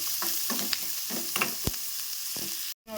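Potato samosa stuffing ingredients frying in a pan, a steady close sizzle with soft spoon scrapes and taps, broken by a brief cut of silence near the end.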